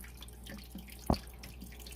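Water trickles from an aquarium filter in a turtle tank with plants, a soft steady wash over a low hum, broken by one brief splashing drip.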